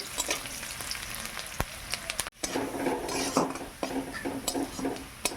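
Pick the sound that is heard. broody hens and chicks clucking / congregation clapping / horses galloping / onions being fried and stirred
onions being fried and stirred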